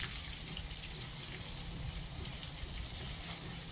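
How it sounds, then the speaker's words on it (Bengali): Whole cumin, bay leaf and garam masala sizzle in hot oil, a steady, even hiss and crackle with no pauses and no talking. "তেলে একটু তেল দিয়ে আর গোটা জিরে তেজপাতা আর গরম মশলা ফোড়ন দিয়ে দিলাম"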